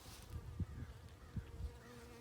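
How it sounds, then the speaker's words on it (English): Bees buzz nearby among flowers in a garden plot, a soft continuous drone with a few louder passes as insects fly close, quiet and without talk. "Oh, the bees are so busy."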